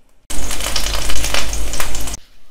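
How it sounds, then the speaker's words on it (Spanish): Whole peeled garlic cloves frying in olive oil over medium heat, a loud, steady, close sizzle that starts abruptly and stops after about two seconds. "vamos a comenzar a dorar los dientes de ajo pelados y enteros a un fuego medio"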